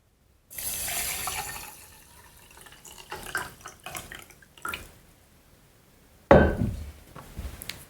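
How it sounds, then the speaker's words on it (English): Tap water runs into a container to soak sprouting seeds such as alfalfa on a kitchen bench: a steady rushing pour for about a second, a quieter trickle with splashes, then a sudden louder gush near the end. "So all we have to do is fill this up with water."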